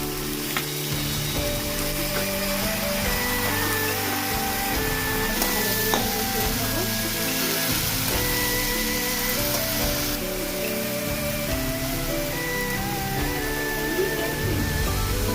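Kanthali banana flower sizzles and fries steadily in a hot pan with ground cumin paste, a dense continuous crackle with occasional stirring scrapes, close and loud throughout with no talk.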